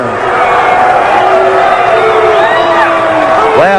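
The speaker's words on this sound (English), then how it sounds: "as you could hear by the crowd's response to that, they were not too pleased over what just happened" A wrestling arena crowd at a 1985 Championship Wrestling from Florida event roars after Ric Flair keeps the NWA World Heavyweight title. The noise is loud and sustained, with scattered shouts and whoops rising out of the mass of voices.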